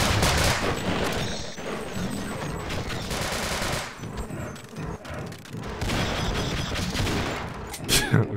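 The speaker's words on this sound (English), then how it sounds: "The BB gun is pretty awful." Rapid continuous gunfire from a weapon in the video game Half-Life Sven Co-op fills the whole stretch, dense and loud, with booming impacts and voices talking under it.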